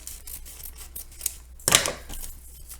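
Scissors snip through gathered tutu tulle in one short, crisp burst, close by and fairly loud against a quiet room.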